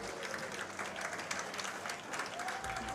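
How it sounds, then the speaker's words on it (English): A crowd in a New York billiards club applauds steadily after a pool shot, with a dense, continuous clapping wash that holds through the whole moment at moderate distance. "And the crowd goes wild."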